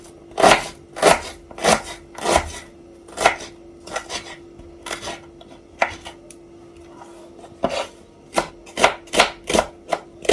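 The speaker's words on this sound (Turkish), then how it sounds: "Onun için de soğanları keselim." Onions are chopped with a knife on a board in a series of sharp, close thuds, first in quick runs, then a pause, then a fast burst, over a faint steady hum with no talking.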